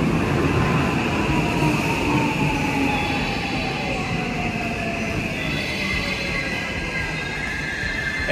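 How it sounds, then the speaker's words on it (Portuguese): A long train rolls past in Osaka, Japan, its continuous loud rumble of wheels on rails holding steady throughout, with faint squealing tones drifting above the roar and no talking. "É trem que não acaba mais, hein?"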